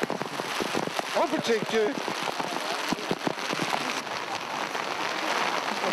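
A rain shower pouring down outdoors, dense close patter of drops striking surfaces with sharp individual splats, steady throughout while someone speaks briefly over it.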